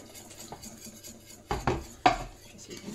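A spoon clinks and scrapes inside a bowl as an infusion is stirred into flour and yeast for a spiced bread batter, with two sharp knocks late on against quiet background.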